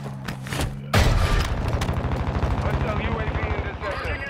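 Video game gunfire erupts after a short, quieter stretch as a loud, fast run of machine-gun shots, steady and rhythmic with booming impacts. Voices come and go underneath.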